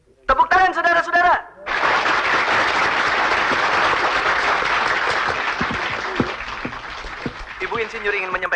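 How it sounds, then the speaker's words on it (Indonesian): Audience applause at an Indonesian celebration as a female engineer is invited up to sing, a sustained dense clapping after a brief spoken introduction, steady then tapering, with voices continuing faintly beneath. "Tepuk tangan saudara-saudara"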